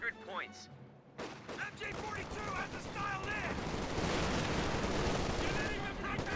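Thompson submachine gun fire crackles in a Company of Heroes 2 battle, with dense, overlapping bursts of rapid shots and background combat noise that run steadily for several seconds beneath a talking voice.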